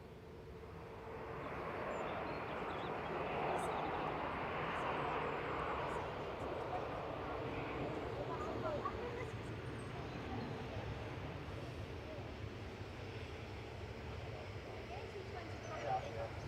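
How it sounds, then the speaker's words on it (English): A Ryanair Boeing 737-800 from Dublin, operated by Malta Air, coming in to land at Manchester Airport; its engine noise swells to a broad, steady roar and slowly fades, with faint voices in the background. "Ryanair 556 from Dublin coming in there, 9HQBV, 737-800, operated by Malta Air."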